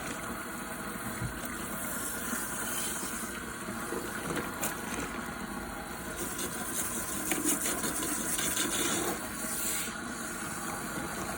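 Running water rinses shampoo out of a wig, giving a constant close hiss and spray that swells slightly now and then, with no talk.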